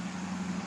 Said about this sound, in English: But loud truck,